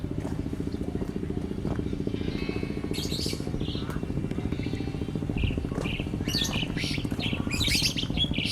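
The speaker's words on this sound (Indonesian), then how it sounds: "Ini ada burung juga, entah burung apa namanya." Birds chirping at a rabbit park in Cianjur on a drizzly day, with bursts of bright tweets scattered over a steady low mechanical hum that sounds like a motorcycle engine idling close by.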